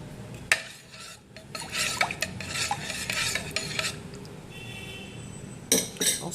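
A spoon clinks and scrapes in a bowl as batter is stirred after adding salt, nutmeg and cinnamon. Irregular bursts of metallic scraping and light clattering sound close, with short pauses and no talking.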